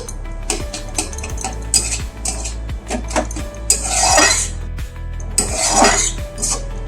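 Pointed gourd frying in a pan is stirred with a metal utensil, giving loud repeated scrapes and clanks against the pan over a low background hum, close up, with bursts of sizzle between the strokes.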